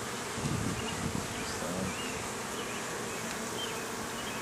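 Dense, steady buzzing of honey bees swarming close around an open hive during an inspection, a continuous drone with no voices.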